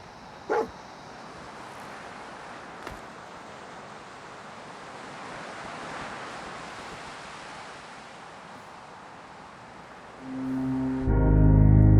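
A dog companion in the Fallout video game lets out a single sharp bark, followed by a fainter one, over a steady windy, surf-like ambience that swells near the end.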